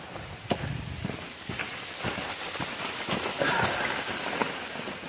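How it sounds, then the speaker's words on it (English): Steady heavy rain patters down hard on a forest trail, with scattered louder drops and taps from tree cover breaking through the constant wash. "It's raining harder now."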